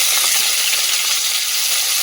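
Chopped onion fries in hot oil with a steady, loud, close sizzle. The bright hiss holds continuously, with no voices or other sounds.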